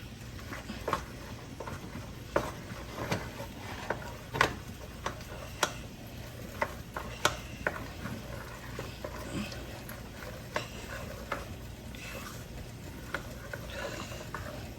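Macaroni and cheese made with block cheese being stirred in a pot, giving a steady run of faint, close clicks and taps of a spoon roughly every half second.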